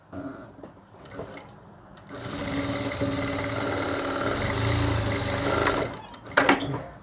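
Electric sewing machine stitching salwar fabric in a steady whirring run of several seconds after a few soft handling noises, ending with brief clicks, close and moderately loud.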